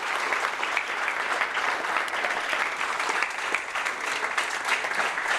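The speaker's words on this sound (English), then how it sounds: "Ladies and gentlemen, can you give Troy a round of applause?" A steady round of applause from the audience at a startup pitch night, many hands clapping evenly without a break for several seconds, moderately loud and unaccompanied by talk.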